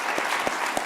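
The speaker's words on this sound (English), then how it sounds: "So another round of applause for this." A short burst of audience applause at an anniversary event: many hands clapping steadily at moderate volume for about a second, with no voices over it.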